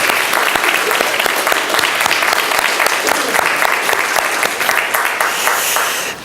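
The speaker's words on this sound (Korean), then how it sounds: "우리 모든 것들을 감사를 담아서 우리 서로에게 박수를 드리겠습니다" Church congregation applauding one another in thanks after a worship gathering, a dense, loud, sustained wash of clapping from many hands that holds steady for several seconds before tapering slightly at the end.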